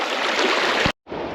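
The Kootenai River near Libby, Montana, rushing along in a steady broadband wash, briefly cut to silence before the flow resumes.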